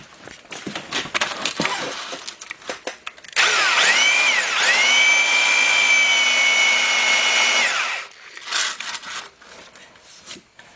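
A drill spinning a sandpaper cone on a rubber mandrel chamfers the bore of a Willys L-head engine cylinder, a loud steady whine of about five seconds starting abruptly and stopping, with clatter of shop handling before and after.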